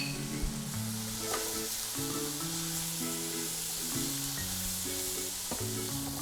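Savory crepe filling sautéing in a pan with dried oregano, chili flakes and salt, a continuous close sizzle and frying crackle with stirring, while background music plays underneath.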